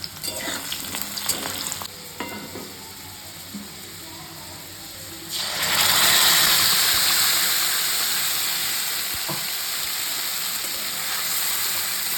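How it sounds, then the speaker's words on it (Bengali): Potatoes fry in a pan, starting with quieter clinking and stirring, then a loud, steady sizzle swells from about the middle of the clip and holds to the end. "এই যে আলুটা দিয়ে দিলাম আলুটা ভাজা হোক"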